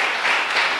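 A church congregation bursts into a loud, dense round of clapping during a worship service, a short continuous burst with no speech over it.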